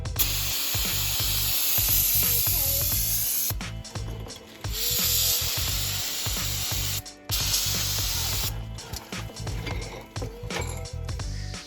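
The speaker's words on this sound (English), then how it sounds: "Now we're gonna take some brake clean. We're gonna wipe out all this grease that's on here." Brake cleaner sprayed onto the greasy front brakes of a 2015 Ford Transit van, a loud close hiss in long bursts with short gaps and faint tool clatter between.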